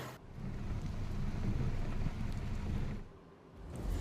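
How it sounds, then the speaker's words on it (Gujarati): Heavy rain driven by strong wind in rural Amreli, Gujarat, a loud continuous rushing roar with buffeting gusts on the microphone, briefly easing before swelling again. "ભારે પવન સાથે વરસાદ"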